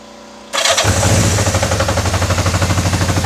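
A 1987 Yamaha Radian motorcycle engine cranks and fires after a brief quiet moment, then settles into a loud, close, steady idle with an even pulsing throb.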